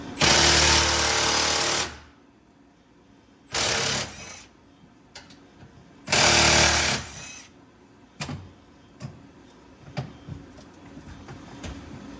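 A cordless impact wrench rattles loose 12mm bolts on a Yamaha RMAX side-by-side in freezing cold, three loud hammering bursts of about one to two seconds each, separated by quieter clicks and handling noises.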